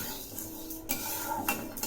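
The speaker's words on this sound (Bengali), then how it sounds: "আবারও একটু নেড়ে দিচ্ছি" A few scraping clinks of a utensil stirring mixed lentils frying lightly in a pan, spaced apart, over a faint background hiss.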